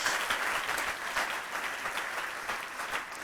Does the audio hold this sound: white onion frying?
no